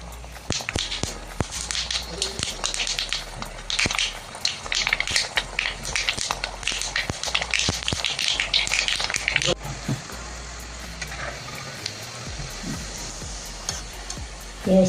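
Round rava and maida cookies frying in hot oil, giving a steady, close sizzle and bubble that is loud at first and then settles lower, with occasional clinks.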